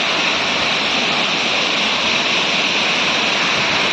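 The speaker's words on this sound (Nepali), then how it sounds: "यही है बाक्साङ फल्स चाहिँ, ब्युटिफुल फल्स" Bakthang Falls near Gangtok, Sikkim, on the road to North Sikkim, roars as a loud, unbroken rush of falling water close by, steady from start to finish with no voices.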